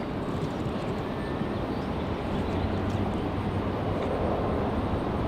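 Frontier Airbus A321 jet airliner at Raleigh-Durham International Airport: a loud, continuous broadband engine roar that holds steady throughout, near and unbroken, with no voices.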